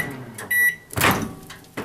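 A microwave oven heating chimichangas gives its beeps, then a door thump and whirring hum, ending with another clunk, loud and close with no talk.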